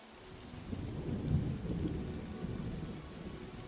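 Steady rain and a low rumble of thunder from the video game Monsters & Memories, swelling to a peak and then easing off, with no voices.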